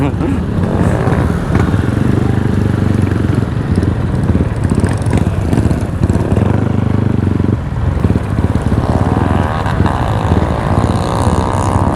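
A stock motorcycle on a trail ride drones loudly and steadily up close, its engine held under throttle for the whole stretch, with voices talking over the noise.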